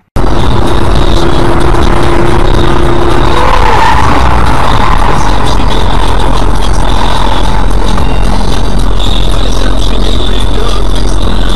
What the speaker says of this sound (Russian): Занесло машину